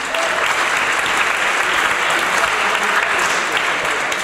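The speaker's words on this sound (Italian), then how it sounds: "facciamo intanto un applauso" A room of students bursts into continuous, dense applause for an Olympic gold-medal cyclist from Los Angeles 1984, steady and full for the whole stretch with no voices over it.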